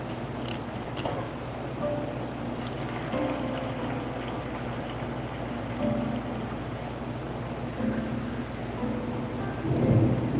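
A thunderstorm rumbles with steady rain-like noise and low, rolling thunder that swells near the end, heard fairly far off.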